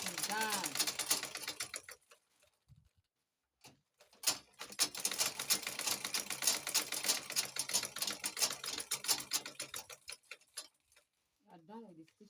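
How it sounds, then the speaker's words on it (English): A sewing machine stitches the side seam of an abaya in fast rattling bursts, one short run then a longer stretch of several seconds, close and crisp, with brief spoken words and pauses between. "I'm stitching the side now."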